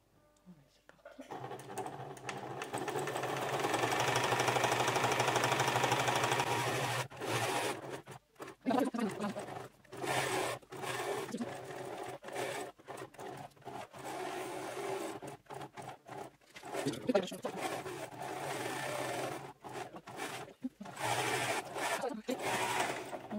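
A sewing machine stitches fabric for a baby's apron, a steady continuous whir for several seconds that then breaks into short stop-start bursts, with a person talking quietly between runs.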